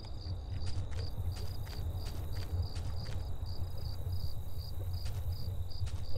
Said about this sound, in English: It was like a cricket or something on the ground.